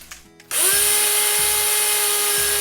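Old-fashioned oatmeal, about one and a half to two cups, being ground into oat flour in a blender or grinder, a loud steady high whir that starts abruptly after a brief quiet moment and runs continuously to the end.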